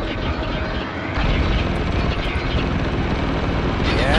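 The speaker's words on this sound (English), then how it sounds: "You're nothing but your crappy helicopters." Helicopters in the shooter game Spec Ops: The Line, a dense continuous rotor and engine roar mixed with battle noise, loud and steady, with a voice faintly underneath.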